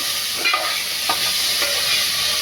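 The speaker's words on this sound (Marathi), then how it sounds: "टोमॅटो पण चांगला भाजून घ्यायला पाहिजे." Tomatoes frying in a pan for chicken biryani give a steady loud sizzle, with a few soft scraping stirs on top and no talk.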